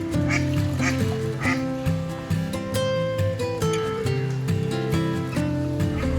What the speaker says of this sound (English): Ducks aren't too happy though.